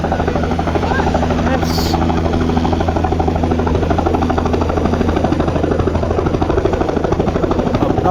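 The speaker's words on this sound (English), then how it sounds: "the helicopter's making too much noise" A helicopter at the former RAF Sleap airfield runs its engine and rotor with a loud, steady droning hum throughout, and a voice briefly answers near the start.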